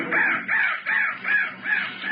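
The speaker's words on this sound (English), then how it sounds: "That crow was the bird of death." A crow caws about five times in an even rhythm, loud and close and heard alone, used as a sound effect in a radio drama.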